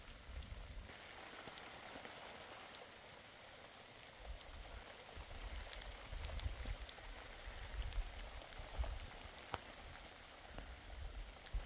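A night rainstorm pours steadily, a constant hiss of rain on surfaces with low rumbling and scattered drips and taps, fairly faint and with no one speaking.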